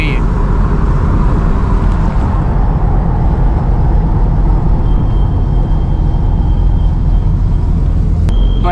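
A 32-year-old modified Soviet-era jeep runs with a steady, loud low engine rumble throughout, a brief high hiss near the end.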